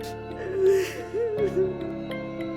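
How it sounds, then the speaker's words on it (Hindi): A girl cries in a horror story, with a whimpering, sobbing voice of short wavering moans over a low droning background hum. "किसी लड़की के रोने की आवाज सीधे चेंजिंग रूम से आ रही थी।"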